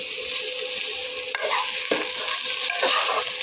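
Potatoes and vegetables fry in a pan with a steady, close sizzle, broken by a few sharp scraping stirs, and no one speaks.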